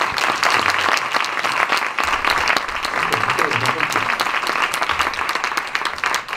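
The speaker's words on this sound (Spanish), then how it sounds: "Un aplauso, por favor." An audience at a parenting talk applauds steadily, a thick patter of many hands clapping at a fairly constant level, with some murmuring voices beneath.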